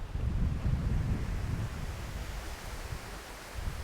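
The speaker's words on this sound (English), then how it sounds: "It's a bit breezy today." Strong wind blows outdoors beside a parked Volkswagen Caddy 1.6 TDI panel van, a continuous low roaring rumble as gusts buffet the microphone, rising and easing slightly without pause.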